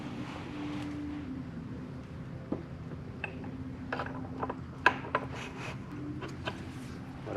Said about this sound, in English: I'm going to go ahead and reinstall the chain and these gears.